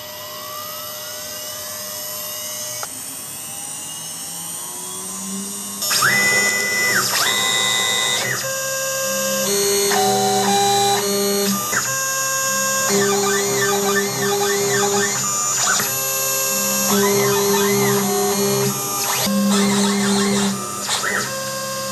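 A CNC K6100A machine in a factory runs a program, with whirring motors, rising and falling tonal whines and rhythmic mechanical ratcheting across the whole stretch, loud and close.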